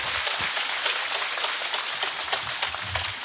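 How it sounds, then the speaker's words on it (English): An audience applauds a finalist walking on stage at a startup pitching competition, a dense, steady wash of many hands clapping at moderate distance, with a few sharper individual claps poking through. "That's the part where you applaud."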